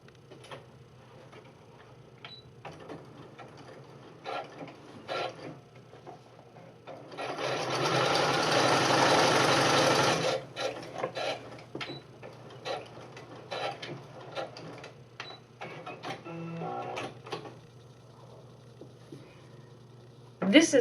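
Sewing machine stitching across the folded edge of a fabric face mask, a steady whirring run of about three seconds in the middle, with brief shorter bursts and clicks around it while a person talks.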